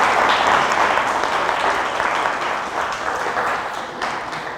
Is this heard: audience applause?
yes